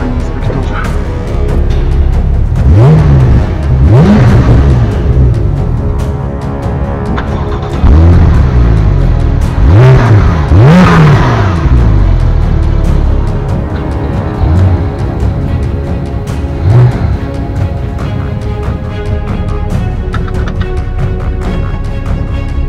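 A Porsche 911 Turbo of nearly 600 horsepower accelerating hard in a chase after a Ducati Diavel motorcycle: loud, close engine roars that climb through the gears in repeated rising sweeps, with a steady heavy rumble underneath.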